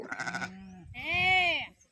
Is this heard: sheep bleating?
yes